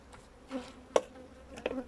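Honeybees buzz in short, faint bursts close by at a hive split into three that urgently needs honey frames and feeding, a few passes rising and fading against a quiet background.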